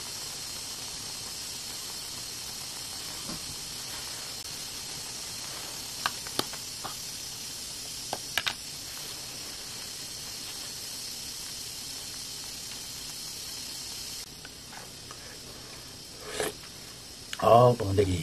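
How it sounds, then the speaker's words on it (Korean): Water boiling hard in a camping pot on a portable stove outdoors, a steady broad hiss running throughout with a few faint clicks and a louder clatter near the end; speech tagged but no clear words. "자, 팔팔 끓는다."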